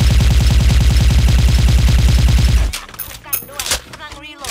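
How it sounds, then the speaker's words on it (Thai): Rapid suppressed bursts from an M4A1 with ACOG sight and silencer in Special Force 2, a steady automatic stream of shots that stops abruptly, followed by scattered softer game effects. "เดี๋ยวเรามาลองนั่งยิงกับยืนยิงครับผม"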